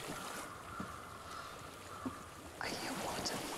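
Flowing water in Hellblade: Senua's Sacrifice: a soft, steady rushing trickle like a nearby stream, heard faint and continuous under ambient sound, with a brief voice over it.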